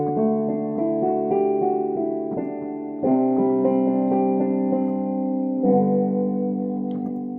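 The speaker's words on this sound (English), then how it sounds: "The most default one that we use is standard electric piano 1." A Casio keyboard plays its standard electric piano 1 tone, sustained chords changing every second or so, smooth and steady at a moderate level, with no voices over it.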